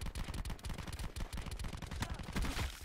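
Rapid gunfire from a weapon in Black Ops 4 hardcore free-for-all crackles in dense, fast bursts, loud and continuous for a few seconds with no talking.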